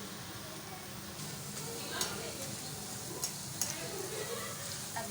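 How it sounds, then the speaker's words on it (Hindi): Namak para frying in oil over medium heat, a soft steady sizzle with a few sharp crackles and light clinks, faint and continuous. "इसको हम दरमियानी आंच पर पकाएंगे"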